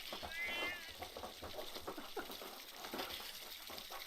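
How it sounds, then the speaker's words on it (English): A cat meows several times close by, high wavering cries over a busy background of clatter and game sounds. "Shut up, cat!"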